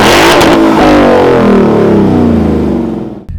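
A Ford Mustang with a Roush axle-back exhaust and an H-pipe fitted in place of the centre resonator revs hard, a loud close rising engine roar that holds then drops off sharply at the end.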